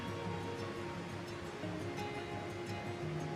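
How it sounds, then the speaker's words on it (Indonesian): Surf washing steadily onto a white-sand beach in Gunung Kidul, Yogyakarta, a continuous broad rush of waves with no pauses and no voices. "Kali ini saya berada di salah satu pantai di Gunung Kidul"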